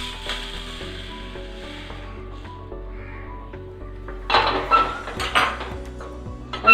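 Dry-roasted spices for kuzhambu chilli powder are scraped out of a pan onto a plate: a soft, steady sizzle gives way to a closer burst of scraping and clinking metal utensils near the end.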